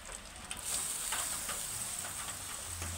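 Ginger-cumin paste dropped into hot oil with tempered spices, a faint steady sizzle and crackle, with a few light scraping taps, quiet and close.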